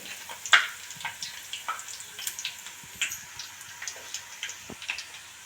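Garlic frying lightly in hot oil for Kara boondi, a soft sizzle with scattered small pops and crackles spread evenly over several seconds, fairly quiet and with no talking.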